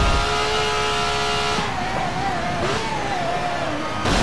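Ferrari racing car engine in Forza Motorsport 7, loud and steady, holding a high note then shifting and rising and falling through revs before cutting off sharply near the end.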